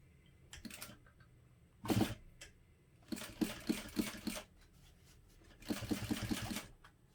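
A sewing machine runs in three short, close bursts of rapid mechanical stitching along a seam on a hobo bag with a 1/8 inch seam allowance, with brief quiet pauses between the runs.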